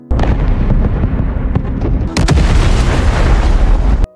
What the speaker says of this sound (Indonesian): bom meledak di distrik pengungsi